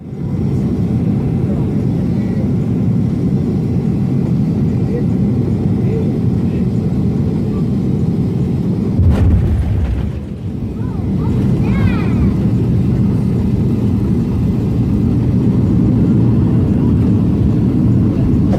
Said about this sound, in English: These planes landing at the same time.